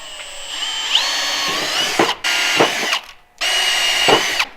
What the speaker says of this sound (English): then we're gonna drill it